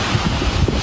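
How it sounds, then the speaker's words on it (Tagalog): Strong sea waves and gusting wind during typhoon flooding in Legazpi City, a steady loud roar of surf with wind buffeting the microphone, no voices. "Lakas talaga ng alon."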